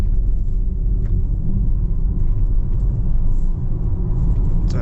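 A 2025 Audi Q4 e-tron 55 electric SUV accelerating hard at full throttle in dynamic mode, heard from inside as a loud, steady low rumble of road and drivetrain noise that holds constant throughout.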